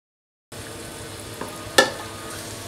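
Eggless mutta surkka batter of raw rice dropped into hot oil on medium flame, starting as a soft steady sizzle with a brief louder splash of frying midway, fairly quiet and close.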